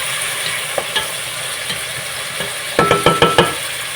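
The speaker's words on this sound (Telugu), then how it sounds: "ఈ ఆనియన్ కొంచెం బాయిల్డ్ అయ్యాయి కాబట్టి టొమాటో యాడ్ చేస్తున్నాను" Tomatoes go into a pan of softened onions cooking on the stove for a horse gram rasam, with a steady sizzle and a quick run of loud stirring clatters near the end.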